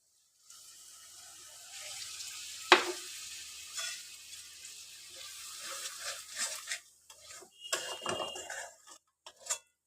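Potatoes sautéing in a pan with yogurt and a splash of milk, stirred in a Bengali-style vegan potato curry; soft steady sizzle with scraping spoon strokes and occasional clinks against the pan, one sharp knock early on.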